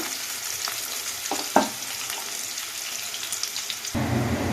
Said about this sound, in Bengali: এটা গোল্ডেন ব্রাউন করে নেব